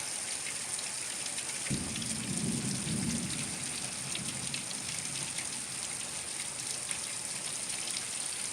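Steady afternoon summer rain patters on surfaces in Florida, a close, even hiss throughout, with a low rumble of thunder rolling in briefly near the start before fading under the downpour.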